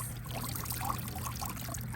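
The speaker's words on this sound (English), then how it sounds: "So we're gonna get the bucket, pour it on the wheels." Water is poured from a bucket onto toy wheels outdoors, making a soft, continuous splashing trickle close by.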